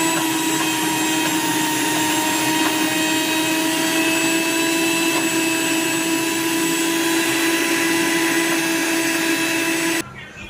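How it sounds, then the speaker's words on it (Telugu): A mixer grinder churning cream into butter whirs loudly and steadily for about ten seconds, a constant high motor drone, then abruptly shuts off. "వెన్న అయ్యే వరకు మిక్సీ వేసుకుందాం."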